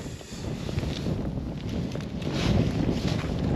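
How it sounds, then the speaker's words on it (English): Strong, cold wind gusts roar and buffet the microphone outdoors on a trout fishing trip, a low rumbling rush that builds louder toward the end. "Wow, the wind is ripping right now."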